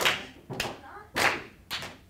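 A group in a jazz class claps hands in four sharp, spaced bursts, each a crisp slap of many hands together with short pauses between, close and fairly loud.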